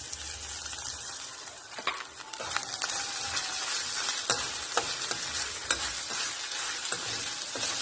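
Cashews and raisins frying in a pan for ripe banana upma, a soft steady sizzle with repeated spatula scrapes and taps against the pan throughout.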